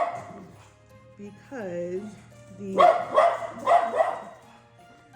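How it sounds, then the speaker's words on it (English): A pet dog named Cupcake barks indoors at a lawn worker outside, first a whiny rising yelp, then several sharp, loud barks in quick succession, mixed with someone talking nearby. "And my dog may bark."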